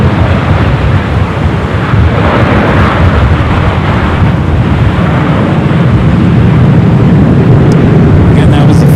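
A Boeing 787-10 Dreamliner arriving from Newark touches down at LAX: a loud, steady, wind-like roar fills the whole stretch without easing, heavy in the low end, with no clear voices over it.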